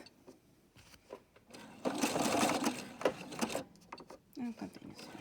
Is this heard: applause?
no